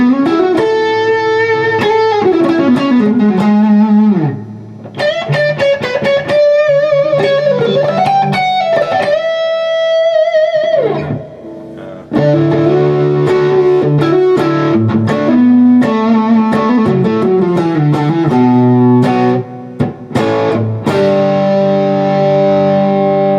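An electric guitar plays through a Mesa Boogie Road King II amplifier with a BB pedal engaged and a light noise gate, producing loud, sustained overdriven notes and chords in flowing phrases with brief pauses between.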